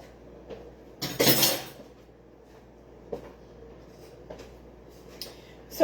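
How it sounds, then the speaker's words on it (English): Cutlery clatters in a kitchen drawer as a spoon is fetched, a loud burst of metallic jangling followed by a few lighter clinks and taps. "Let me get another spoon."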